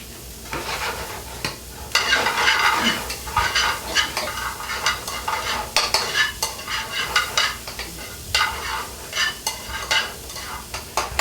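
Onions and carrots sizzling and frying over intense heat in the leftover fat, a loud, steady crackle broken by repeated stirring scrapes, close up and without talk.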